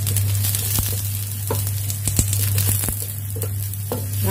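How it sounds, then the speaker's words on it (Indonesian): Shallots, garlic and ginger sizzling as they sauté in hot oil for a Hong Kong-style cola chicken wing dish, a steady loud frying hiss with occasional sharp clinks and scrapes of a utensil stirring, no voices. "Kita masukkan bumbu, kita tumis harum bawang merah,"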